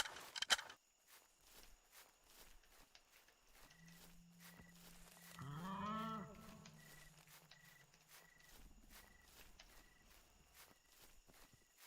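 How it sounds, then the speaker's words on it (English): Soft footsteps pad along at night in the dinosaur-hunting video game TheHunter: Primal, faint and irregular amid quiet ambience, with a creature-like call rising briefly in the middle. "I hear footsteps."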